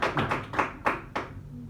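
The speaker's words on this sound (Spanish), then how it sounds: "Démosle un aplauso al Señor" Church congregation clapping in praise, a handful of sharp, distinct claps spaced irregularly over under two seconds, fairly close and fading toward the end.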